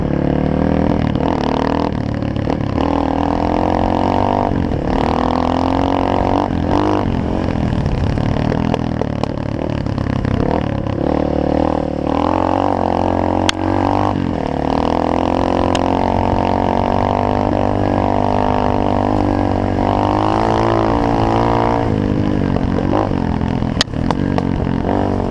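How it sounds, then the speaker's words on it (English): A 2011 XTR Pitster Pro 230sc dirt bike runs continuously, its engine and exhaust droning loud and close with wavering pitch as the throttle rises and falls, plus occasional sharp clicks and rattles, no talking. "Like the way the exhaust sounds."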